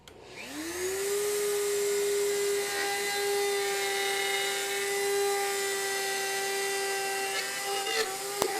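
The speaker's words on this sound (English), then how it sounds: "the blade is going to be taking up the rest of that wood" A router fitted with a guide bushing cuts wood along a template, spinning up to a steady high-pitched whine that holds for several seconds close by, with a small clatter near the end.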